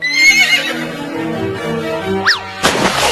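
A cartoon horse lets out a loud whinny with a rising and falling squeal over a backing music bed, followed by a brief bright burst of noise at the end.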